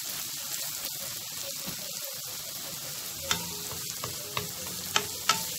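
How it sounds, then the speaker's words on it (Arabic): Onions fry in a pan alongside chicken livers and gizzards: a steady, close sizzle holds throughout, joined near the end by a few sharp clicks and taps. "ندبل البصلة مع بعض"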